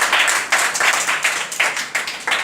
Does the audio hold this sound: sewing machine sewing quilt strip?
no